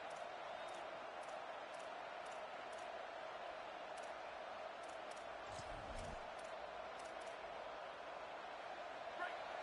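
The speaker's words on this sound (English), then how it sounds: "This crowd knows this defense needs them right now." A stadium crowd in a college football video game keeps up a steady, broad roar in the background while a commentator talks over it.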